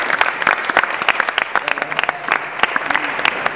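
Audience applause from a comedy stand-up crowd, a dense burst of many hands clapping steadily throughout, fairly close and loud, with no talk over it.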